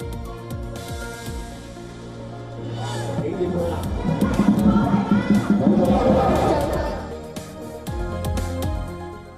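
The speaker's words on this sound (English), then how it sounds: "Cheering spectators and Dragon Boat Race teams roar to life as Hong Kong celebrates its" Spectators cheer and shout at Hong Kong's annual Dragon Boat Festival race. The crowd swells into a loud, dense roar midway, with babbling voices and rhythmic beats underneath, then eases off.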